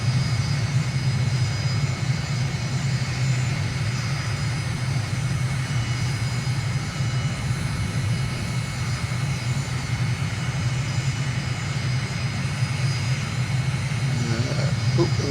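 Aircraft engine at idle in Microsoft Flight Simulator over Belgrade, a steady low drone with constant airflow noise, unbroken and even throughout with no voices.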